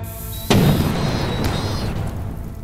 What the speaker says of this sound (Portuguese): Certo, saiu um tirão em algum lugar.